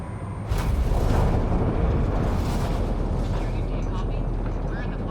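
Deep, sustained rumbling roar of a spaceship decelerating on approach to a planet in Mass Effect Andromeda, loud and steady throughout, with faint voices and tonal cues layered over the top.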